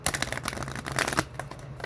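Cards being shuffled for a tarot-style reading, a steady run of crisp riffling and flicking bursts for about two seconds, with no talk over it.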